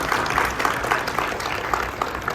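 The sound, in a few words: audience applause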